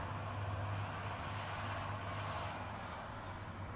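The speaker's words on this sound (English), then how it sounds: "Wait for a tractor to go past." A tractor passes close to a garden bed being planted with onion sets, giving a steady, loud engine drone with a low hum and broadband rumble that holds throughout without pause.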